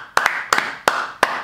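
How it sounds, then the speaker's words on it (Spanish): A few people clap hands in four short separate bursts, each a quick double clap, close by while friends react to a Barça versus Inter football match. "Hay que aplaudir a Alexis."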